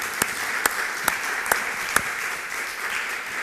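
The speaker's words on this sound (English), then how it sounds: "I think the contributors earn an applause by you" An audience applauds at the close of a EuARe 2021 conference panel discussion on Islam in modern Europe, a steady wash of clapping with a few sharper individual claps standing out at regular intervals.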